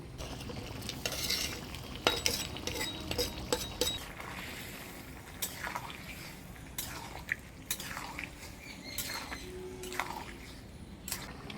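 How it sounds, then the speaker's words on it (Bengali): Shrimp going into a simmering bottle gourd curry in a home kitchen, with soft bubbling and sizzle under clinks and stirring scrapes of a utensil against the pot. "ঝোল দিয়ে দিলাম, এবার চিংড়ি মাছগুলো দিয়ে দেবো"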